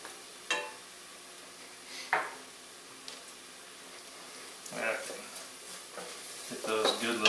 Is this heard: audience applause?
no